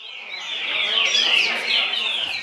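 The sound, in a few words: coleiro (Sporophila) songbird singing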